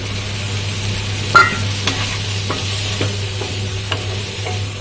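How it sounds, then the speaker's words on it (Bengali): Ground spices mixed in water poured into a hot pan for a Bengali banana-flower dish, giving a low sizzle with scattered stirring scrapes and clicks over a steady background hum, no voices. "এবার আমি এই সব গুঁড়ো মশলাগুলো একসাথে জল দিয়ে গুলে এখানে ঢেলে দিলাম"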